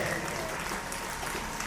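Brief burst of steady applause from attendees at a family Bible convention, clapping together in welcome at an even, full level.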